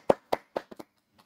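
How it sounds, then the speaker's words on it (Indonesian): A handful of sharp, close hand claps sound in a quick uneven burst at a talk, five distinct slaps followed by one faint final clap and then silence. "Tepuk tangan dulu"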